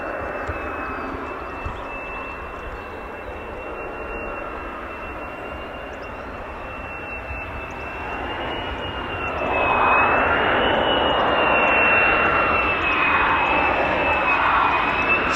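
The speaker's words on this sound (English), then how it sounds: "Sounds like an F35A." An F-35A fighter jet passing over a flying display at RAF Lakenheath, a broad steady roar that swells louder in the second half as it comes closer, with a thin high whine running throughout.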